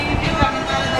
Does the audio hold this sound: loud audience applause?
no